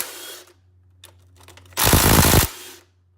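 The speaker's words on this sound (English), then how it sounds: "I'll be using my Makita impact driver" A Makita impact driver with a low battery loosening valve cover bolts on a Honda or Acura engine: a few short taps, then one loud, close, rattling hammer burst lasting under a second; no talking.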